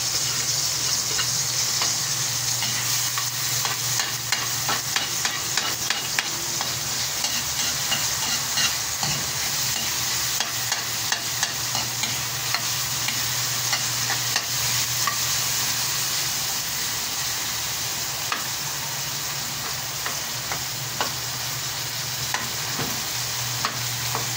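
Garlic frying in a pan while being stirred, a steady bright sizzle with repeated scraping strokes of the utensil, close and continuous, no voices.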